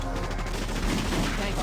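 Dense gunfire in the Valkyria Chronicles video game, a loud continuous barrage of overlapping shots that fills the whole short stretch, with a voice faintly beneath it.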